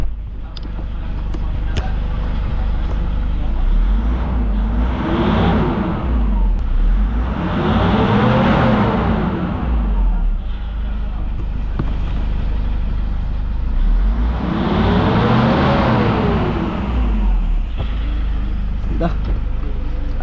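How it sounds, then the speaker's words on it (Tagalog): A Toyota Innova engine runs steadily just after its turbo and EGR were cleaned, with a loud continuous hum and two slow rev rises and falls. Speech is present over the engine. "Ayan, umaandar na nga yung Innova natin."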